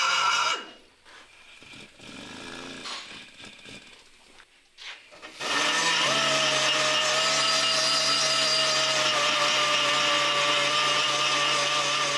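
A grinder starts up after some rustling and handling noises, then runs as a steady loud high-pitched whine with a sustained tone for the last six seconds, close by.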